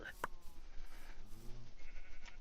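A short sheep bleat in a video game rises amid clicks and other game sound effects.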